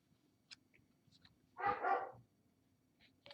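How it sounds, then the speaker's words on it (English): A dog barks in the distance: a single faint, muffled double bark rises over a quiet room background, with a few tiny clicks around it. "I've got a dog barking in the distance"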